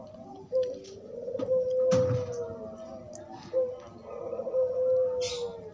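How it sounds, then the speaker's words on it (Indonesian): Zebra doves (perkutut) coo in soft, rounded, repeated phrases from close by, with a few thumps and rustles around them and no talk. "ini burungnya yang masih fresh dari baru datang tuh masih pada sehat-sehat"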